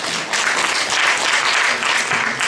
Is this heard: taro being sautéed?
no